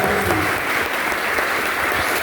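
A church congregation applauds Jesus during a worship service, with loud, dense clapping that stays continuous and even from start to finish.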